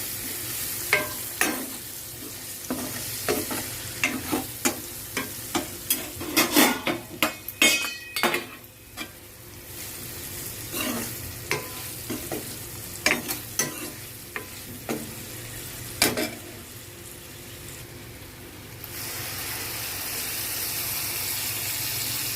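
Beans with turmeric stirred and fried in a pan, with repeated scraping strokes of a utensil against the metal over a steady low sizzle, the strokes coming in irregular bursts before fading to plain frying.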